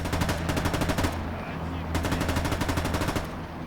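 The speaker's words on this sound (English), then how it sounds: "Machine gun, open up, open up." Machine gun fire in a World War II battle at Kursk in Gates of Hell, loud rapid bursts of automatic shots in two long volleys with a brief pause between, close and dense over a low rumble.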